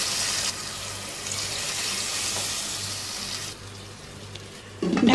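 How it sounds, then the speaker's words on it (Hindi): A steady rush of water, two cups, pours into a cooking pot of spiced potatoes, hissing and splashing continuously before tapering off, close by with no talking. "अब इसमें शामिल करना है 2 कप पानी।"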